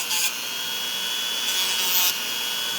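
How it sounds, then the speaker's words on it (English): Hand sanding with sandpaper on the edges of a homemade RC car steering knuckle, a close, continuous gritty rubbing hiss with brief brighter strokes at the start and near the end. "Hit it with a piece of sandpaper by hand."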